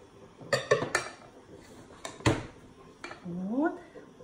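A pie in a baking dish gets shaken, giving several short clattering knocks and clinks of the dish against a surface in irregular bursts, followed by a brief voice.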